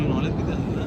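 A jet aircraft performing inverted rolls at an air show roars overhead, loud and continuous, with a voice talking over the engine noise.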